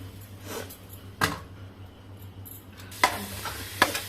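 Chole masala sizzles softly in a metal pan while a spoon stirs and scrapes against the metal three times.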